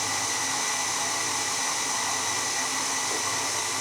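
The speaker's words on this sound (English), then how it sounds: "that mixer is still working through that butter fine" An electric hand mixer beats butter for a soft chocolate cake batter, giving a steady, unbroken motor whir that holds close and loud throughout with no talking.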